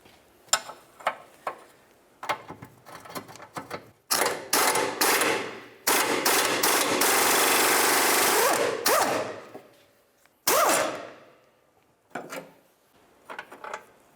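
A power tool works a nut on the lateral link of a 1999-2003 Toyota Solara: short mechanical rattling bursts, then a long sustained loud buzzing run, followed by more intermittent bursts, all close up.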